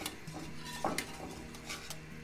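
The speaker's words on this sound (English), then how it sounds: "So I just whisk all of that pumpkin, all of those ingredients together." A whisk scrapes and clinks against a pot while stirring pumpkin puree with cinnamon and other ingredients for a pumpkin steamer drink; light, close, irregular metallic taps and swishes, with no talking.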